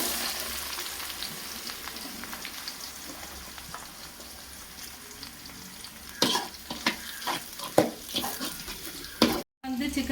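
Shallots, fennel seeds and curry leaves fry in hot oil for chicken sukka, a steady soft sizzle with a ladle stirring and scraping the pan in sharp clatters during the second half.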